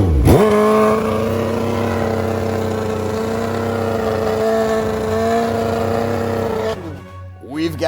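A drag racing motorcycle on the Samoa drag strip blasts off with a loud, sustained high-revving engine roar that holds steady for several seconds before cutting away, close and dominant over crowd noise.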